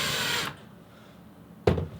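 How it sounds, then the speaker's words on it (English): A power driver sends screws through mounting supports into a wall: a loud whirring burst, a quiet pause, then a second short, sharp burst of driving, with no voices. "going to put my screws in through the mounting supports"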